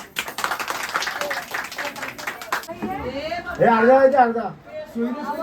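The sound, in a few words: people clapping hands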